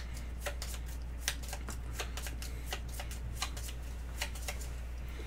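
A deck of Gloomhaven Jaws of the Lion cards is shuffled close by: a run of crisp riffling flutters and snaps at an irregular pace, fairly quiet, with no talking over it and a steady low hum underneath.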